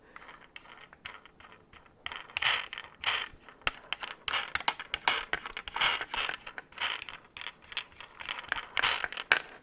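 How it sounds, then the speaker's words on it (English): An ASMR fidget toy's free-spinning wheel is spun repeatedly up close, giving rapid ticking, ratcheting clicks in uneven bursts that swell and fade. "It's a free roaming wheel that you can just spin to your heart's content."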